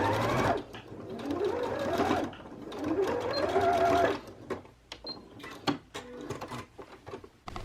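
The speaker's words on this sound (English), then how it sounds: "now for sewing these ends together, you are probably going to have to slowly pivot the edge" Sewing machine stitching the ends of a fabric scrunchie slowly, pivoting at the edge: bursts of motor whir that rise and fall in pitch, broken by pauses and sharp mechanical clicks.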